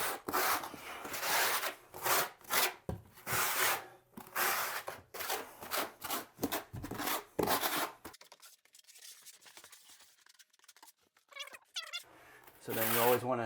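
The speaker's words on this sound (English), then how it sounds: "use the flat side of the trowel first, burn it into the substrate" Notch trowel scraping and pressing thin set mortar onto a bathroom floor substrate during a 1940s bathroom remodel, heard as repeated loud rough strokes in a steady rhythm, followed by quieter scraping and a brief voice near the end.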